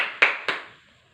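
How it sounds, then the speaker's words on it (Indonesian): In a classroom, two sharp, close hand claps land about a quarter second apart, then the room falls silent. No one speaks. "Tepuk tangan untuk Ella Gustiana."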